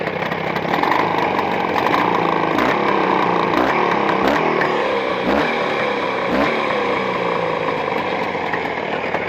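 A motorcycle engine running in on Chinese cylinders in +40 degree heat, a loud, steady close-up drone with rapid throbbing exhaust pulses and a few brief revving swells, without talk.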